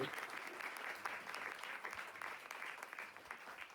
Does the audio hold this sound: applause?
yes